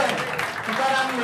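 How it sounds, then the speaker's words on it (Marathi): Audience clapping at a college prize distribution ceremony honouring a professor, a short dense burst of applause filling the room at close range, with a voice over it. "सरांसाठी जोरदार टाळ्या वाजवायच्या."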